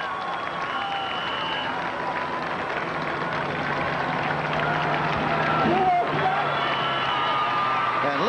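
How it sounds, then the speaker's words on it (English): Marathon spectators in Central Park, New York, cheering a passing runner, a steady roar of whoops, shouts and clapping sustained throughout with a brief whistle, broadcast-style crowd noise. "And listen to the crowd welcoming Douglas Wakihura."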